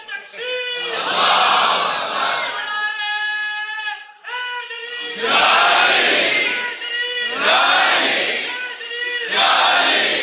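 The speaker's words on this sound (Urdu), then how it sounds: "اگر خودداری پر نوجوان نعرے لگانے لگ گئے" A young crowd at a religious speech about the birth of Imam Hussain chants slogans in loud, rhythmic bursts, a leader's voice alternating with the roaring group response in several waves.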